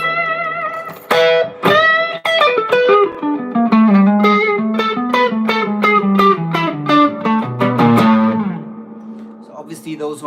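An electric guitar plays a Texas-style blues lick in E. A quick run of picked and bent notes rings out loud and close, with a lightly driven, reverberant tone and short pauses between phrases.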